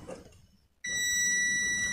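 A multimeter tester in continuity mode beeps while probing a diode on the circuit board of a dead Taffware car battery charger, a sudden steady high-pitched tone that starts after a quiet moment and holds, close and loud, with no talk.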